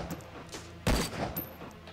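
Video game gunfire, mostly faint distant shots until one loud, sharp blast near the middle, followed by scattered quieter reports.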